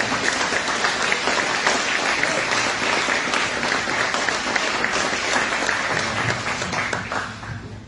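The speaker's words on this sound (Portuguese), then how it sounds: "aplauda o Senhor bem forte" Loud, dense applause from a large church congregation at a worship service, sustained steadily and tapering off slightly near the end.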